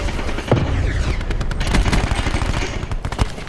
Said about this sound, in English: they're all shooting at me, bro